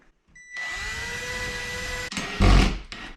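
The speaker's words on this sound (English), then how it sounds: "I'm going to drill this right here, and I'm going to put these right in the center" A power drill whirs steadily at close range, then stops briefly before revving harder into the material for a louder final burst.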